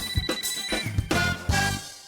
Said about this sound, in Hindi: फोन की घंटी बजते ही लकी को वहाँ से निकलने का मौका मिल गया